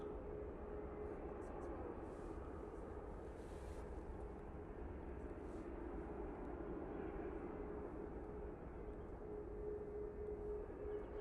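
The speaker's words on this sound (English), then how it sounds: "British Airways now making its way past the Concorde hangar." At Manchester Airport, a British Airways airliner taxis past the Concorde hangar, producing a faint, steady jet-engine drone and broad rumble that holds throughout at a distance.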